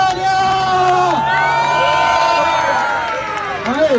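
A large crowd cheers, whoops and shouts loudly and continuously at a Brazilian freestyle rap battle semifinal, with children's high shouts mixed into the sustained roar.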